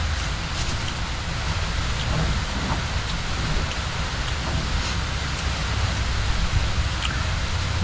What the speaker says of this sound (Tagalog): Maaraw, umuulan.